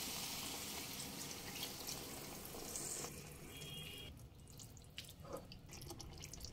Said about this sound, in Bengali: বাটি ধুয়ে আর অল্প একটু জল দিয়ে দিলাম